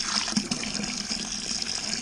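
Fresh cold water pouring steadily into a fermenter for a Coopers beer kit brew, a continuous splashing rush, moderately close and without talk.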